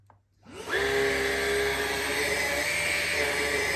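A Numatic Henry Quick cordless stick vacuum with its floor tool starts up after a brief quiet moment, rising quickly into a loud, steady motor whine that holds evenly to the end, with no talking.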